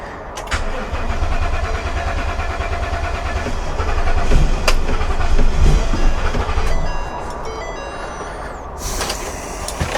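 A wrecked RV's engine cranks over and over without catching, a loud, rough grinding whir that rises and falls before easing off.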